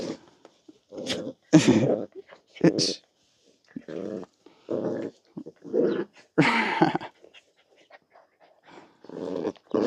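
Two dogs play-fighting up close with bursts of growls, yips, whimpers and panting, coming in short scuffling bouts separated by brief pauses, with a person's voice heard now and then.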